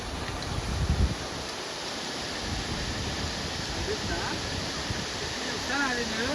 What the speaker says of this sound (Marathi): रानपाटचा धबधबा.